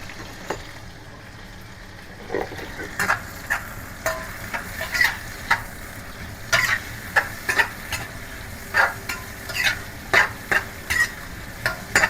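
A spatula scrapes and stirs in quick, irregular strokes over a steady sizzle of ginger slices and garlic stir-frying in a wok, with no voices.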